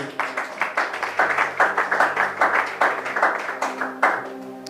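A church congregation claps in a steady rhythmic beat, many hands together, loud and close, with faint voices mixed in underneath.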